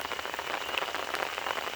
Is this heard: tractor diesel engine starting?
no